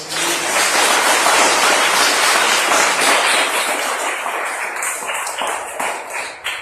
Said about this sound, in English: Just a round of applause for Francoise